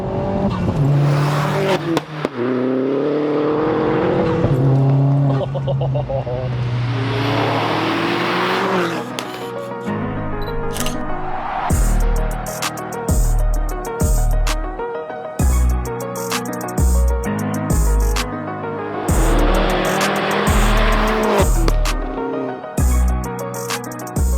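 Self-built 310bhp Vauxhall Astra VXR engine, loud and close, revving hard with rising and falling pitch, then a rapid series of sharp throttle blips and pops, followed by more aggressive revving.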